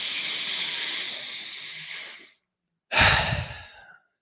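A slow, deep breath in a guided breathing exercise: a long airy hiss of inhaling, then silence, then a short, forceful exhale. The sound is close, loud and breathy, with no talk.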